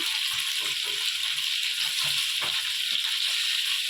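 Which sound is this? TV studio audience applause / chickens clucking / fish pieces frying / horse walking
fish pieces frying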